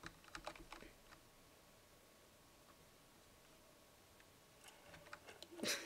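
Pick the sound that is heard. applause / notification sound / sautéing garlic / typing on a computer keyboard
typing on a computer keyboard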